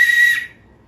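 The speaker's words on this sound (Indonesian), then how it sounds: "oh itu suara peluit" A small toy whistle sounds one short, shrill, steady blast lasting about a third of a second, loud and close, then cuts off into near silence.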